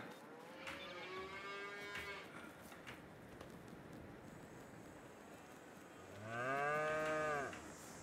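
Cows moo in a farming video game, with one drawn-out low moo early on and a louder, longer moo near the end over a steady quiet outdoor background.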